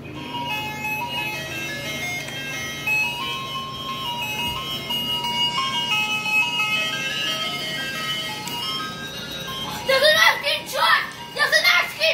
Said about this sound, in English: There's an ice cream truck!